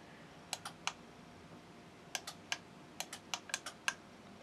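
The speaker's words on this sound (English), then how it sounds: "You can hear all the relays clicking in it." Relays clicking inside a 12V remote LED light controller with an extendable antenna, a few sharp clicks, a pause, then a quick cluster of crisp clicks, close and fairly quiet.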